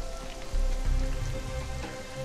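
Rain pours steadily into a roofless house in the video game Conan Exiles, a dense, continuous patter with low thumping underneath and no voices.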